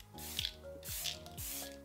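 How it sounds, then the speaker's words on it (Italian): Three short hissing bursts of Wycon All Day Perfect Setting Spray, a matte-effect makeup setting mist, come at an even pace, each a close, bright puff over faint background tones with no talk. "Questo qui è l'All Day Perfect Setting Spray in Matte Effect."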